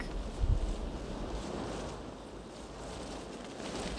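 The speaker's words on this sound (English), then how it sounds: "the way a wave of wind punctuates a last look back" Steady wind rushes through an outdoor film scene, a broad continuous hiss with a low rumble and a brief stronger gust near the start, holding fairly even throughout.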